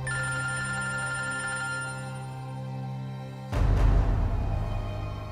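A phone ringtone rings steadily with sustained tonal notes for several seconds, then is cut off abruptly by a louder burst of noisy rustling and movement.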